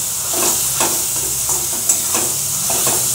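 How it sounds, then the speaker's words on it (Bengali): Ginger paste frying with onions in a pan for a Bengali fish curry, a soft continuous sizzle broken by rhythmic scraping stirs, close and alone without speech. "একটু লাল করে ভেজে নেব। একটু আদা বাটা দিয়ে দেবো"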